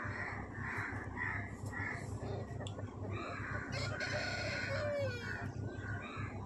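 A rooster at a busy village poultry market, with crowing and clucking fowl and crow-like caws rising over a constant crowd murmur, the birds moderately near amid steady background chatter.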